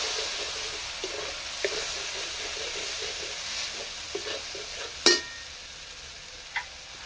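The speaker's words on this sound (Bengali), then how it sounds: "একটু জল দিয়ে মশলাটা কষবো, সামান্য একটু জল দেব" Masala spice paste frying in a pan with a splash of water for a Mughlai paratha potato curry, a steady soft sizzle and hiss with occasional stirring scrapes and one sharper clink.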